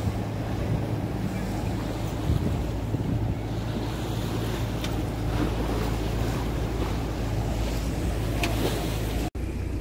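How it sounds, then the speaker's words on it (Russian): Sea waves wash against a sailing yacht at sea, a constant rushing roar mixed with heavy wind buffeting the microphone, loud and unbroken for the whole stretch. "Волны какие."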